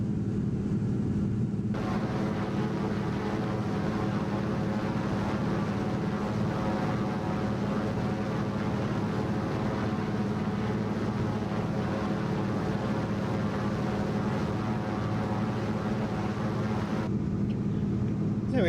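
A light aircraft engine drones steadily on a throttled-back descent in the flight simulator X-Plane, a constant low rumbling hum that stays loud and unchanging for the whole length, with no talk heard.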